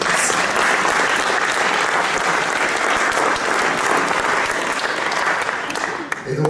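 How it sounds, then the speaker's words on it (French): Sustained applause from a studio audience at a French accordion talk show, dense and steady throughout, dipping slightly just before the end. "il faut absolument l'applaudir"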